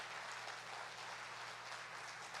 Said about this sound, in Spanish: ¿Cuántos damos un fuerte aplauso al Señor?